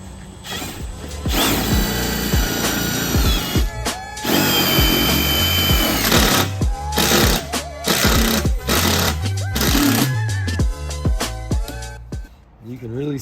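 A power drill drives self-tapping screws into a metal golf cart frame while fitting a clay basket on an Evolution EV cart, loud bursts of whirring and grinding that start and stop repeatedly, close by.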